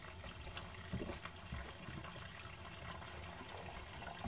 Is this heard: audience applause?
no